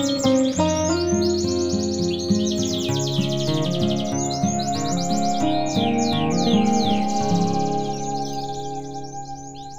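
Canaries sing continuously, with bright rapid trills and chirps layered over one another, close and lively, with no voices.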